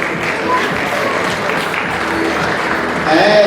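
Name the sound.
audience applause at a beauty pageant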